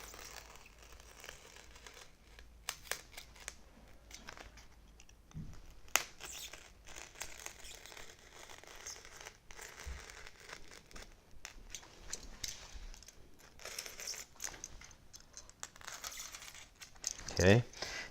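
A knife slices through material during a model build, giving faint, close crinkling and tearing scrapes in short scattered strokes over a quiet background.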